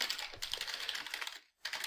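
Rapid keystrokes on a computer keyboard entering router commands, a quiet steady clatter of clicks with a brief pause before typing resumes, close and without speech.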